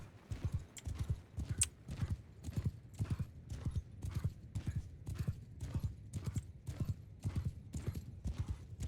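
Horse hooves clip-clopping in the video game Mount & Blade Bannerlord, a steady, evenly spaced trot of many soft beats, faint and continuous with no talk.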